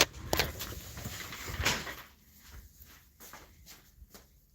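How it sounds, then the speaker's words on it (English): An interior door closes on its own in a house, giving a dull knock and thud near the start, followed by quieter shuffling and faint knocks as the room settles, with no talking. "The door just freaking closed."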